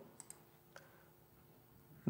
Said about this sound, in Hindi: फिर नेक्स्ट बटन पे क्लिक करते हैं